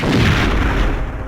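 A heavy boom in the Perfect Dark video game as a special pillar in the Skedar Ruins Battle Shrine level is destroyed. The loud, rumbling blast stays dense for over a second and eases slightly toward the end, with no talk.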